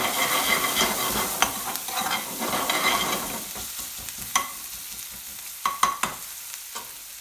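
Fresh onion fries in a pan with a close, crackling sizzle and stirring scrapes, louder at first and then thinning out into sparse pops and spatula knocks near the end, with no talking.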